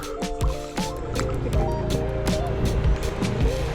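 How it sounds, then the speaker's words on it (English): A baby splashes water with her little hand on a Koh Samui trip, giving a run of close, irregular slaps and drips with watery squishes over a low background murmur. "She loves going into the water and just splashing with her little"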